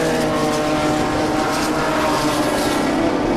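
BMW race cars, including a leading BMW CSL, run at Zwartkops circuit during a BMW Racing Series race, producing a loud, steady, dense engine roar that holds without a break.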